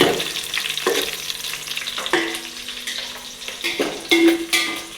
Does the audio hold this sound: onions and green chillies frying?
yes